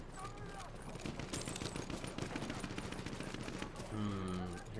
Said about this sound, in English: Hear a lot of gunfire.